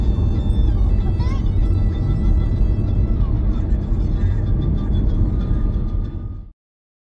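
A car rolls slowly along the dirt road to Expo Lake in Dubai, a steady loud rumble of engine and tyres close up throughout before cutting off abruptly near the end.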